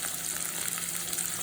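Sliced shallots frying in ghee, giving a soft, continuous crackling sizzle at low volume with no talking over it.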